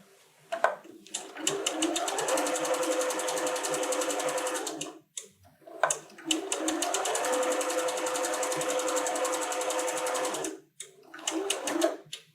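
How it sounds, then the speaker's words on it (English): A sewing machine stitching a quarter-inch quilt square seam whirs in two long steady runs and a short burst, its rapid needle rhythm close and clear, with brief pauses between. "So when I'm sewing, I just run the fabric right along that edge, and it gives me a 1/4 inch seam without me measuring it."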